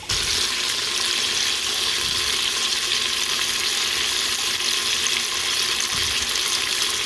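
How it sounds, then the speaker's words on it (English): Bacon sizzles and spits in a hot pan, a dense, continuous crackling hiss heard up close with a few soft knocks of a utensil and no talking. "Uninterrupted, just sizzling meat."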